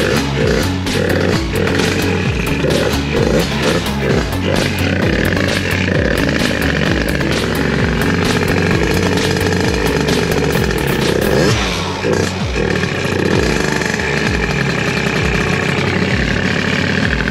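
A Honda Elite AF16 scooter engine runs after a carburetor install, a loud, continuous, slightly uneven buzzing idle with small throttle blips, close up and alone for the whole stretch.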